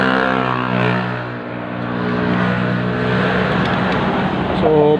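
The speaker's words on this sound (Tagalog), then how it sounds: "nasa harap po kami ng highway, kaya medyo maingay yung sasakyan dito" Continuous road traffic from a nearby highway rumbles and whooshes past steadily, with a motorcycle-like engine drone running throughout and a brief higher whine near the end.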